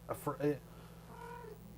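A cat meows twice in quick succession at close range, followed by a softer, drawn-out meow over a faint steady background hum.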